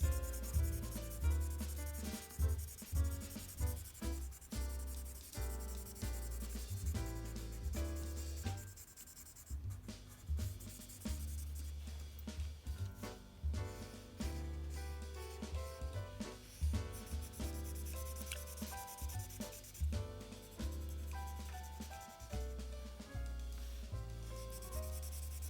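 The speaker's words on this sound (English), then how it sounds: "when I darken this in or color it in with a black crayon" A black crayon rubs steadily across paper while an outline drawing of a groundhog in its hole is colored in, the scratchy strokes repeating under continuous background music.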